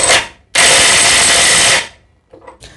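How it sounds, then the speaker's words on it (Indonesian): A DeWalt DCF922 impact wrench tightens a nut onto a bolt in one loud, close burst of about a second and a half, preceded by a brief whir and followed by quieter handling clicks. "Saya akan kencangkan menggunakan DeWalt ini ya."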